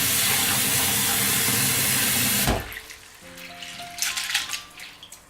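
Running water gushes loudly into a container, then cuts off, leaving soft splashing and sloshing as egusi melon seeds are rinsed by hand.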